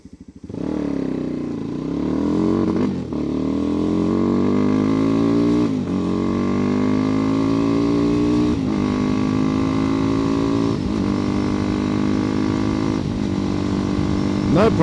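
A Megelli 250r motorcycle fitted with a cone air filter pulls away in city traffic, its engine buzz climbing in pitch through several gear changes with brief dips between shifts, close and steady throughout.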